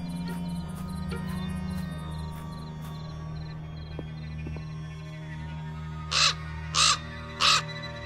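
A raven in the Black Mirror 2 game gives three loud, evenly spaced caws near the end, over a quiet humming ambient background.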